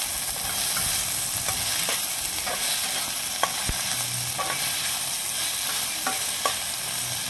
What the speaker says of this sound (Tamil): தக்காளி நல்லா வதங்கட்டும், கொஞ்சமாக உப்பு சேர்த்துக்கிறேன்.